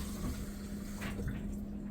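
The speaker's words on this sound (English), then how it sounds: "I'm going to add some water" Water running steadily into a pan holding Salisbury steak mixture, a soft, continuous pouring hiss over a low steady hum, faint and close.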